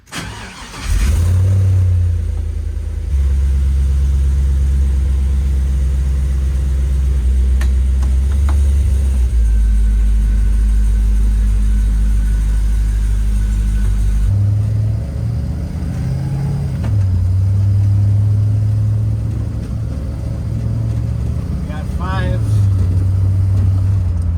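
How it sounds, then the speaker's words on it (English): A 1974 Corvette with a swapped 4.8 LS V8 starts and drives around the block. A deep, loud engine rumble swells and eases as it accelerates and shifts, with people talking over the noise. "take this thing for a spin around the block really quick"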